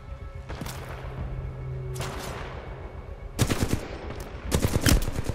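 Enemy gunfire in the video game Titanfall 2: after a couple of isolated cracks, loud bursts of rapid automatic shots arrive in two clusters near the end.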